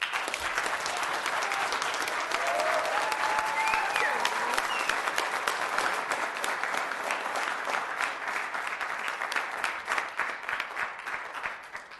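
Sustained applause from an audience at a city council meeting, steady clapping that runs throughout and tapers slightly toward the end, with a brief hint of voices within it.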